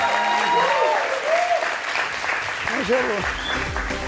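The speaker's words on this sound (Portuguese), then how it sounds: "Salve de palmas para ela!" An audience at a public speaking training class breaks into sustained applause, dense clapping throughout with voices cheering and calling out over it.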